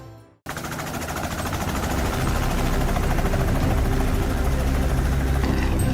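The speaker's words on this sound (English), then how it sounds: "use a helicopter as their hunting vehicle" A brief quiet gives way to a loud, close helicopter used for wild boar hunting, whose rotor chop and engine roar build steadily and stay constant.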